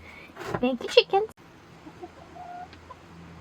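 Chickens in a backyard coop give a quick run of close clucks and squawks, then only faint outdoor background and a distant soft call remain.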